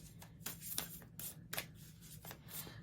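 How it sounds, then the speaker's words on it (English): Tarot cards shuffled by hand, a run of soft papery riffles and flicks with a few sharper snaps, close and fairly quiet over a low steady hum, no talking. "let's just shuffle these cards a few times"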